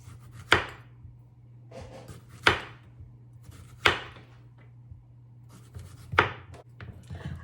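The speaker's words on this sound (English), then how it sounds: "first I'm going to start chopping my zucchini." A knife chops zucchini on a cutting board in five sharp, evenly spaced strikes, close and crisp, with quieter scraping between them over a low hum.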